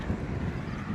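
Strong wind buffeting the microphone beside a jogging and bike lane, a continuous low rumbling roar for the whole second with no other sounds.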